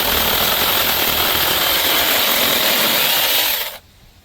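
A DEKOPRO 6-inch cordless mini electric chainsaw cuts through a dead, dried-out branch 2 to 3 inches thick, giving a loud, steady, close whine for nearly four seconds before it cuts off abruptly.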